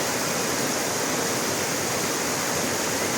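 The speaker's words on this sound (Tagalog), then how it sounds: "Ang lakas ng agos pero wala siyang pinanggagalingan." Strong river current welling up from an underground spring at a resort in Tanay, Rizal, rushing steadily and loudly like a waterfall, a dense continuous roar with no voices.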